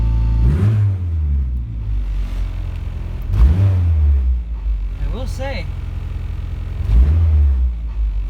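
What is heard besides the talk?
Turbo Honda Integra exhaust with cutout fully open, revving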